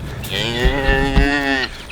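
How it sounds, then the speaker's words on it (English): Cattle lowing on a green October pasture at an Alaska homestead: one long, loud, close moo with a harmonic tone, held for most of the two seconds before it tapers off. "Gonna let the cows out on the pasture here."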